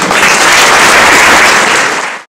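Dense, loud applause from a conference audience welcoming the second speaker, a continuous broad roar of clapping lasting about two seconds before ending abruptly.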